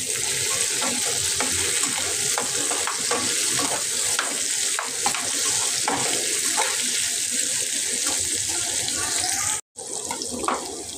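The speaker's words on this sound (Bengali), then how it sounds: "পেঁয়াজ আলু খুব ভালোভাবে লাল লাল করে ভাজা হয়ে গেছে।" Steady broadband sizzling of onions and potatoes frying in a pan, with scraping and stirring sounds throughout and a brief break near the end.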